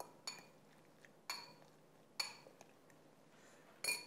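Spoon clinking against a bowl while mixing oven-dried tomatoes into a roasted eggplant dip: four or five sharp, quiet metallic taps spaced about a second apart, with soft scraping between.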